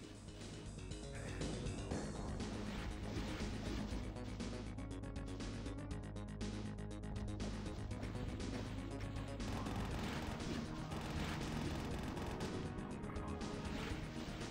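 Dense, relentless gunfire and chaingun bursts fill the Doom-engine game Valiant on the map Bushwhacked, loud explosive cracks and rattling fire overlapping continuously throughout.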